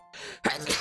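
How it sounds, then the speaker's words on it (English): A single sneeze bursts out sharply after a brief indrawn breath, close and loud. "Sorry if you heard me sneeze."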